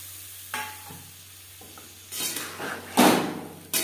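Cut potatoes drop into hot oil with tomatoes, green chilies and ginger for a Bengali fish curry, giving bursts of sizzling and scraping stirs against the pan, with soft clatter between louder frying surges.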